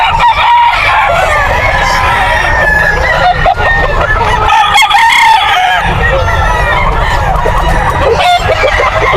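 A bull stag rooster crows loudly and close by at a busy pet market, with clucking fowl and crowd noise all around.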